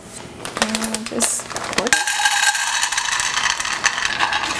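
Peanuts roasting in a pan are stirred continually, producing a dense, close rattling and scraping that runs steadily throughout, with faint clinks near the start.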